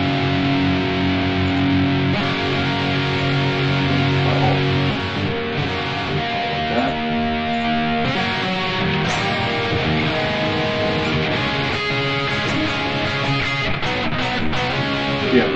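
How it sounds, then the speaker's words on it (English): Distorted electric guitar through a THR10X amp playing sustained chords and notes, washed in spacious reverb, loud and continuous throughout. "Let's have some reverb."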